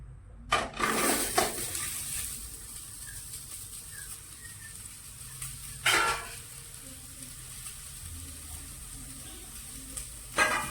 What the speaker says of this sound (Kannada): ಅದ್ರೊಳಗೆ ಇವನು ಲಾಸ್ಟ್ ರೀ ಟೊಮೊಟೊ ಕಾಯಿ ಒಂದು ಹುರ್ಕೊಂಡ್ಬಿಡೋಣ್ರಿ